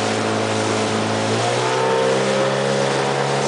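A small 30 hp outboard motor on a canoe on the water, droning loud and close, its pitch climbing as it accelerates, with no talk.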